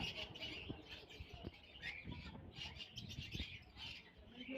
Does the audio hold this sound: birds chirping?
yes